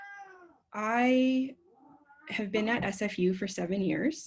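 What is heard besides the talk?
cat meowing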